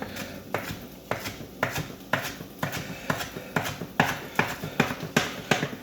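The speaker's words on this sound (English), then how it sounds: "now we're just chopping up this cilantro here" A knife chopping cilantro taps rhythmically on a cutting board, a steady run of crisp chops repeating about twice a second, close and fairly quiet.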